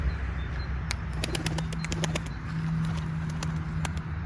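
Pet pigeons taking off and flying, sharp wing claps and fluttering flaps in a scattered series over a low hum outdoors, near and moderately loud, without speech.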